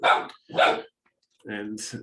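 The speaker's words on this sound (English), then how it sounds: "so I apologize for the barking" A pet dog barks indoors: a few sharp, close barks in quick succession separated by short pauses, with a voice briefly speaking.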